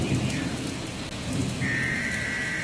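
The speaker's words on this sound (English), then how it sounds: "The only thing you hear going on is the storm." Steady rain pours throughout with continuous hiss and patter, joined by deep rumbling thunder from a storm in the low end, loud and unbroken with no voices.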